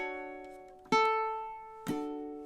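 A ukulele picks out measure 15 of a theme tune, two bright plucked strums a second apart, each ringing and fading, close and fairly quiet with no voices.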